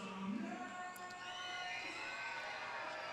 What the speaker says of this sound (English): Got some noise there from the crowd.